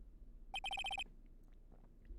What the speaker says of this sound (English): What is with this stupid sounding ringtone?